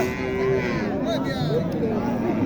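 A three-day-old Sahiwal calf moos in drawn-out, wavering calls, close by, over a low background murmur at a cattle market.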